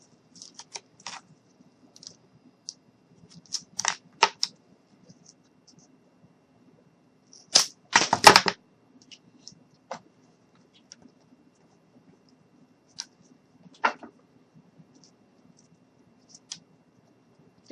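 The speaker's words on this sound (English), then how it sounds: "So I'm going to take my shears, and I'm just going to cut that end off" Shears snip through wooden popsicle sticks in a quiet room, a handful of sharp isolated clicks and cracks with one louder, longer crunching cut in the middle and a few softer snips spread around it.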